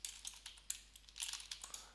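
Rapid typing on a computer keyboard, a quick irregular run of light key clicks over about two seconds, close and fairly quiet, with no voices.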